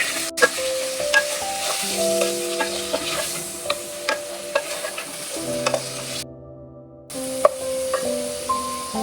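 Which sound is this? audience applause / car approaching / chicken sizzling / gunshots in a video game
chicken sizzling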